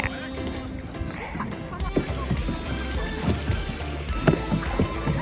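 Kayak paddle strokes dip and splash in the water of Halong Bay, a few irregular nearby splashes over steady lapping and background ambience.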